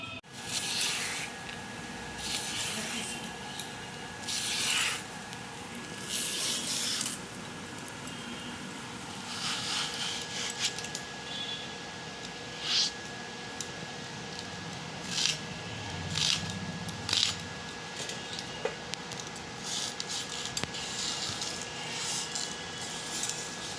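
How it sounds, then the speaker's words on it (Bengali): Taro leaves (kochu shak) are peeled and cut into pieces, giving soft, crisp snips and tearing sounds in irregular bursts, close but quiet, over a faint background hum. "কচুর শাকটা এইভাবে ছাড়িয়ে আর এইভাবে টুকরো টুকরো করে নিলাম।"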